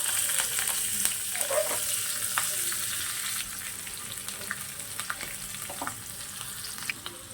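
Steady, loud sizzling of green chilies and asafoetida tempering in hot oil, with scattered sharp crackles and pops, continuing throughout with no voices.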